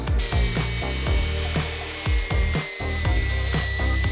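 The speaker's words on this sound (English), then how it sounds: "we're gonna sand down those really raw wood pieces, and I've never used this machine" A sanding machine grinds steadily across raw wood with a rough, rasping texture, pulsing in regular strokes every half second or so, close and loud, with no voices.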